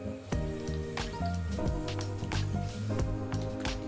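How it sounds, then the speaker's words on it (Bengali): Lentil fritter batter with salt is mixed by hand or spoon, giving soft wet squelching strokes in an irregular rhythm, partly masked by background music. "এটাকে ভালো করে মিক্স করে নেব।"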